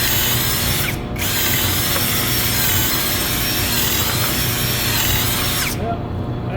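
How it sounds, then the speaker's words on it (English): A LAZYLAND 21V brushless cordless impact drill bores holes through a piece of pallet wood, whining loudly and continuously for several seconds after a brief pause near the start, then stopping. "So I'm going to start out with just blasting a couple of holes. This is just a piece of pallet"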